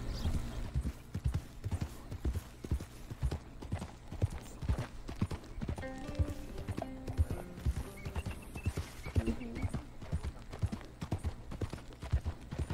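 Horse hooves clip-clop in a steady rhythm in the Red Dead Redemption 2 video game, close and clear, with occasional whinnies and game effects layered over the hoofbeats.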